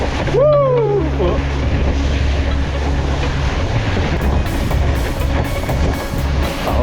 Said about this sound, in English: Didn't expect the wind to be so strong, but it's fun.